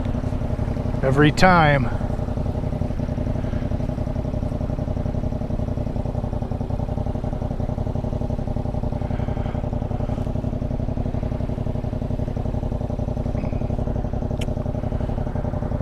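A Yamaha MT-07 motorcycle clicks into neutral with a quick gear-shift clatter, then idles with a steady low engine drone throughout, while someone talks briefly near the start.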